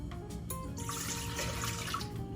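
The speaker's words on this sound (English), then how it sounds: "I'm going to go ahead and add the water to my mixing bowl." Warm water poured into a mixing bowl for focaccia dough runs as a continuous, gently splashing stream, faint and steady throughout with no talk.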